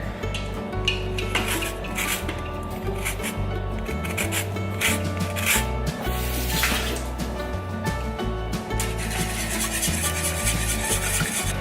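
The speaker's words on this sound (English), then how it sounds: "And then we're gonna add the zest of 1 lemon." One lemon being zested on a grater: continuous close rasping and rubbing strokes in a fast, uneven rhythm, with no talking.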